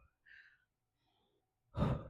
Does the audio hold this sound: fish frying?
no